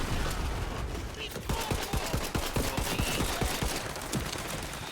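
Pistol gunfire in the video game Tiny Tina's Wonderlands, a rapid string of sharp shots in a dense, busy mix with steady game noise, while a player talks over it.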